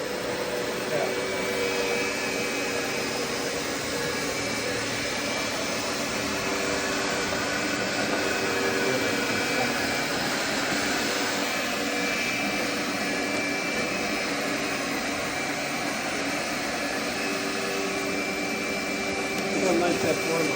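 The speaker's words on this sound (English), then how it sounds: "And then you can hit the vacuum in the water." A wet vacuum sucks up water during hands-on wood and LVP/LVT flooring work, roaring in a loud, unbroken whine for the whole stretch while people talk over it.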